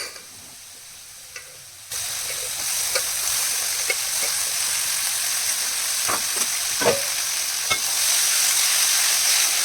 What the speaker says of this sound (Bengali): এর মধ্যেই আবার শিমগুলো দিয়ে ভালো করে নেড়ে নিয়ে